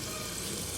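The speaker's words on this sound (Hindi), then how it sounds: "घी को उछलना देखें, उछल कैसे रहा है।" Hot ghee sizzles and spits in a pan while potatoes cook, a steady, dense crackling hiss that fills the whole short moment close to the pan.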